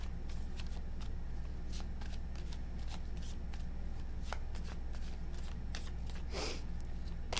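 Tarot cards shuffled by hand in a quiet room: a rapid run of crisp, close riffling snaps and flicks, fairly soft, with no talking.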